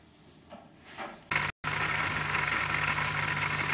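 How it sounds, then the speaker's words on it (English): A big diesel generator running on fuel made from used motor oil and transmission oil starts up after quiet scattered noises, then holds a loud, steady rumbling drone with a brief dropout. "Big diesel generator."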